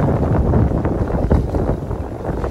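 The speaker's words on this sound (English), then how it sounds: "It's gusting in the low 20s" Strong wind gusting in the low 20s on a sailboat under jib on the Intracoastal Waterway, a loud, close roar of rushing air buffeting the microphone in uneven surges.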